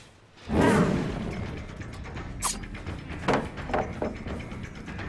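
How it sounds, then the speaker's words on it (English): A reverse bear trap goes off in the video game Dead by Daylight: a sudden loud mechanical burst, then creaking, ratcheting clicks and a couple of sharper metallic snaps trailing after it. "That bear trap is exploding, sir."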